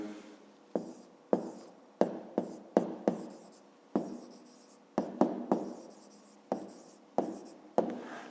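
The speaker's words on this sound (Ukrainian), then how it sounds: "Ну, а тепер записуємо відповідь." Handwriting of a math answer, close and quiet: a dozen or so separate scratchy pen or pencil strokes in an irregular rhythm with short pauses, with no talking.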